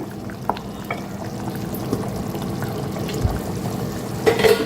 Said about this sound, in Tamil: ஸ்டவ் ஆஃப் பண்ணாலும் கொஞ்சம் மஞ்சட்டிலேயே கொஞ்சம் நேரம் கொதிக்க தான் செய்கிறேன்